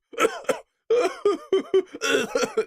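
A sick boy lying in bed with a partial CPAP attached coughs while eating ice cream. Several short, harsh, voiced bursts come close and clear in quick clusters, separated by brief silences.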